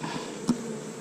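Honeybees droning at an open high-producing hive during a frame inspection, a steady faint buzz throughout with one brief closer swell midway, no talk.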